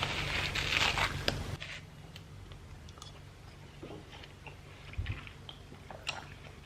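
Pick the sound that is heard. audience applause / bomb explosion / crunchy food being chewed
crunchy food being chewed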